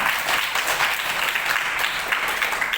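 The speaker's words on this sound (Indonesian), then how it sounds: "tepuk tangan dong Mbak Aulia" Classroom applause during a teaching practice lesson, a steady patter of many hands clapping at once, close and fairly loud, holding evenly throughout with no talk over it.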